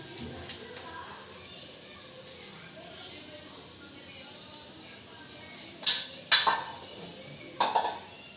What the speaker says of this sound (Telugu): దీన్ని కూడా మొత్తం కలిపిస్తున్నాను ఒకసారి